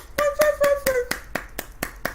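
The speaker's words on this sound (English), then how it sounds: "I got to give Knowledge a clap" A single person claps their hands about nine times in an even, moderately quick rhythm, close and sharp, over a faint musical tone.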